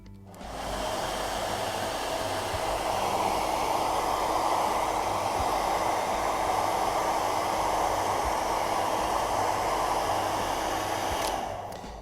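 A hair dryer with a long-fingered diffuser attachment blows continuously. Its loud, even airy whoosh holds steady after starting, then drops off at the very end.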